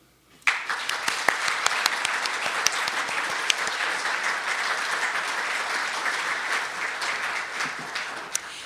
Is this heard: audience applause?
yes